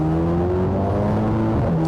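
A 2023 Mercedes-Benz SL43 AMG, US version, accelerating hard from a stop, its engine rising steadily in pitch, loud and close from inside the car with no talk.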